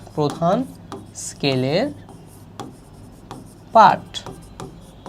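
A pen scratches across paper in short scraping strokes, sitting under a voice speaking between the bursts of writing.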